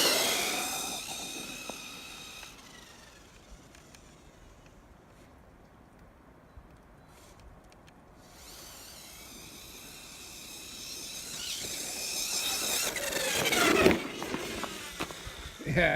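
A Hoba Hyper 10sc RC car with a 17t pinion upgrade runs through snow, its electric motor whine rising and falling as it passes near and far, with crunching snow and a burst of loud close noise near the end.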